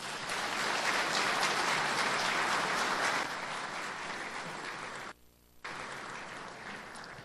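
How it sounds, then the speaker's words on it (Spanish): Applause from a crowd at the opening of a formal event, steady and full for a few seconds, then continuing at a slightly lower level with a brief dropout before it resumes. "Les pido que le den un aplauso y que empiece nuestro evento el día de hoy."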